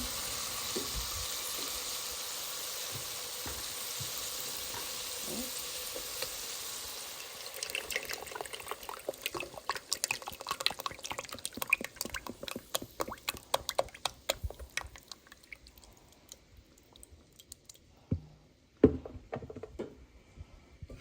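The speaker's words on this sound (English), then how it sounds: "And add in the whipped cream." Whipped cream pours into a hot pan for Alfredo sauce: a smooth, even pouring rush lasts several seconds, then gives way to scattered crackles and pops that thin out toward the end.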